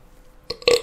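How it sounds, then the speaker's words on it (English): A short man's burp, two quick throaty bursts with the second louder and longer, close and clear against a quiet room. "There's a burp coming right now."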